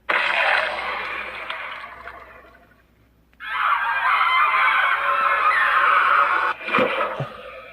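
A Juggernog mini fridge sounds off with its video game effect, a loud sustained burst of brassy, honking tones that dips and fades, falls silent briefly, then returns even louder with a short stuttering break near the end.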